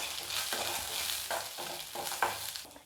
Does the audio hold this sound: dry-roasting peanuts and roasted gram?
yes